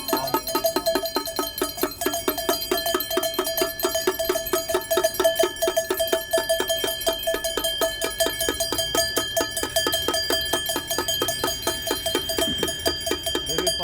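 Bells rung outdoors during a peace vigil for Palestine, a loud, steady run of rapid metallic clangs with ringing overtones that continues without pause.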